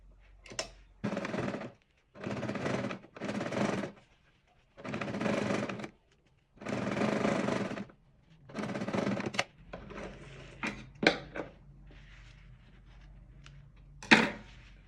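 A sewing machine stitches the lining of a quilted baguette bag in seven close, loud bursts of rapid whirring, separated by short pauses, followed by fabric handling and a few clicks.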